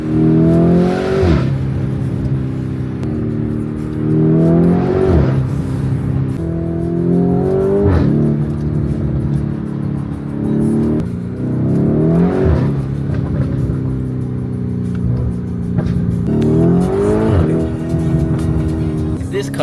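A car pulls away on a drive to class, its engine rising in repeated revving surges that drop back at each gear change, loud and close from inside the cabin.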